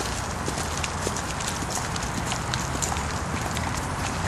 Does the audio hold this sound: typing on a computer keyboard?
no